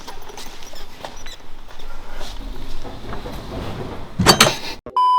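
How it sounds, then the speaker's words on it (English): A massive iron door in an abandoned laboratory grinds open after a stretch of quiet shuffling room noise, ending in a brief loud scraping, rattling burst near the end. "Massive iron door. Yeah. Does it open again?"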